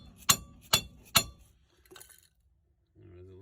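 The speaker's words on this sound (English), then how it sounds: "Well, we could tap it one more, I think." Three sharp metallic taps on a brake rotor being seated on a 1999 GMC, evenly spaced and close, followed by a brief faint clink and then a voice starting to talk.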